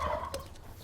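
Domestic fowl, likely chickens or turkeys, cluck and call briefly at a moderate distance, a short burst of bird noise with no talking.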